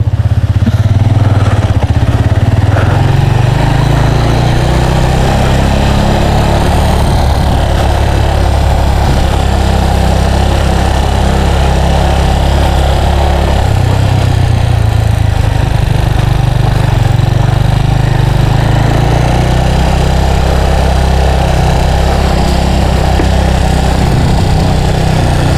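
A motorcycle engine runs steadily and loud close by, a low throbbing drone that rises and falls in pitch with throttle changes over nearly half a minute, with no talk over it.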